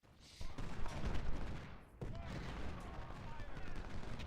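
Gunfire from Civil War infantry units in a strategy game: dense, rolling volleys of rifle fire crackle and rumble continuously, dipping briefly before a fresh burst, fairly loud throughout.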